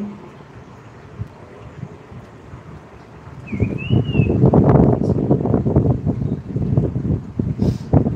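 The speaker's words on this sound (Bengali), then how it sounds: "হাওয়া চলছে তো, হাওয়ার ফলে না ভয় লাগে" Gusty wind buffets the microphone, building from a quiet start into loud, rumbling blasts that surge and fade.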